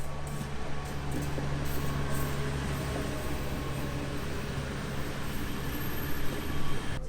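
A passenger train ride near Adana, Turkey: a steady, loud rumble of wheels on rails with a constant low drone and occasional rattles, heard from inside a carriage with no talking.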